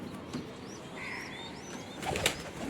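A young pigeon beats its wings in a fluttering burst, with faint bird calls and rustling around it and a louder flurry of flapping near the end.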